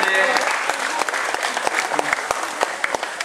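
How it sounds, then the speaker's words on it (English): A crowd gives a big, steady round of applause at a live animal behaviour show, dense and fairly close, with a few sharper individual claps standing out and some voices underneath. "How about we give them another big round of applause?"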